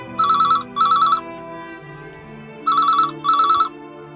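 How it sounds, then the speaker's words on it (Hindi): A telephone rings in two double bursts, each a pair of bright electronic trills with a pause between, loud and close over a low background hum. "किसका फोन है?"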